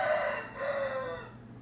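A rooster crows in one long, drawn-out call with a wavering pitch, heard close and fairly loud with no talk over it.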